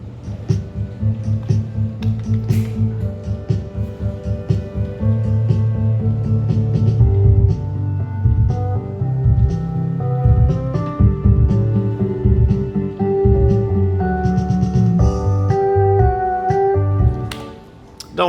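A basic instrumental jam on the Earthbound Tucson theme plays continuously, with a steady low bass groove, layered melodic synth lines and regular percussive hits at a fairly loud, full level. It stops abruptly near the end.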